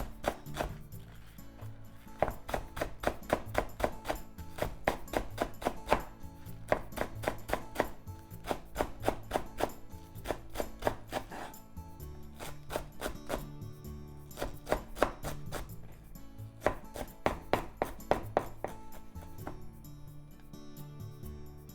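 A knife slices rapidly through vegetables on a board in quick, steady bursts of taps with short pauses, quiet and close.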